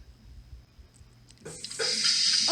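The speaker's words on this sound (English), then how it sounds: "Okay, she turned on the water." Water starts running from a sink faucet partway through, a steady rushing hiss that stays loud to the end after a quiet start.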